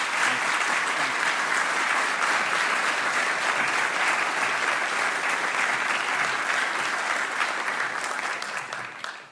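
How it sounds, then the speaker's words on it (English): A steady, full round of applause from an audience at a university announcement event, loud and dense with clapping throughout, fading slightly at the very end. "I think a round of applause is in order."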